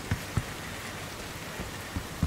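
Steady rain from the video game Cyberpunk 2077 hisses as a constant wash, with a few soft low thumps scattered through it and no voices.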